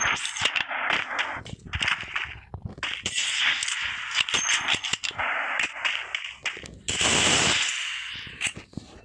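Rapid automatic gunfire in the shooting game Free Fire, dense bursts of close sharp shots in quick rhythm with short pauses, and someone talking over the shooting.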